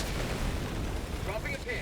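Orbital strike explosions in Helldivers 2 rumble as a dense, continuous roar of blasts and booming impacts, with someone talking over the din.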